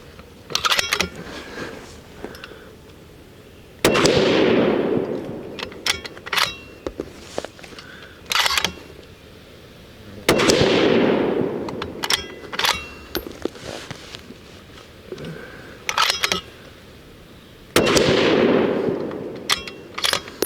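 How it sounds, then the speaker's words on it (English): A Bergara Premier rifle in .308 Winchester fires Berger 168-grain Classic Hunter loads at a range, three loud, sharp reports spaced several seconds apart, each ringing out briefly with small handling clicks between. "we're gonna attempt to shoot these Berger loads against my better judgment"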